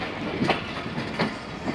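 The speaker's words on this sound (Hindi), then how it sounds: "यार्ड से ये कोल ट्रेन गुजर रही है" A coal train rolls through a Pakistan Railways rail yard, its wheels beating a steady clickety-clack rhythm over the rail joints amid a continuous rumbling wash of noise.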